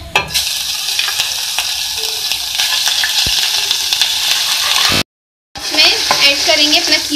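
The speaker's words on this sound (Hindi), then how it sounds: "सबसे पहले ऑयल में हम ऐड करेंगे जिंजर गार्लिक पेस्ट" Ginger garlic paste fries in oil with a loud, dense sizzle and stirring scrapes, broken by a half-second gap before the crackling resumes just as strongly.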